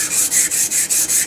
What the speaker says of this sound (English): I'm going to polish this surface, the oscillating surface, just a little bit, like that